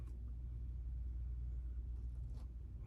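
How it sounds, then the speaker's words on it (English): Police car driving past outdoors: a low, steady rumble of an engine and tyres heard from a distance, muffled and continuous, with no siren. "there's a Popo driving by."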